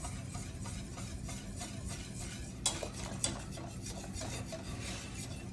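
A whisk stirring cream into melted butter in a pot for butterscotch pudding makes a continuous close scraping and rasping with a couple of sharper metallic clicks against the pan, heard alone.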